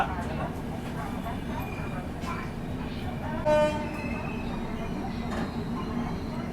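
The Jan Shatabdi Express, running from Mumbai CSMT to Madgaon, sits at Kudal railway station amid a steady rumble of rail noise, with a short horn toot partway through and someone talking over it.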